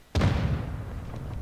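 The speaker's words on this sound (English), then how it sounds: "Flash grenade." A flash grenade detonates in a multiplayer shooter game, giving one sudden boom with a sharp onset that rolls off into a fading rumbling tail.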